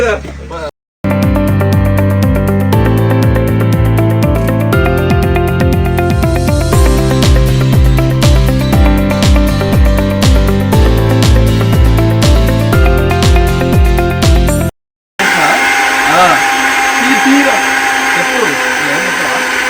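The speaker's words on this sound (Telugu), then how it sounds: "ఇది లాస్ట్ మిక్సీ అంటే లాస్ట్ రౌండ్" A mixer grinder blending tomatoes whirs loudly and continuously, stops briefly, runs again at full power, then cuts off before a burst of muffled noise.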